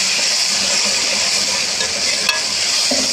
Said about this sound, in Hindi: टमाटर को अच्छे तरीके से भून लेना है